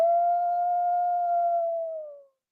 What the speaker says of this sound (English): Let's live and let howl.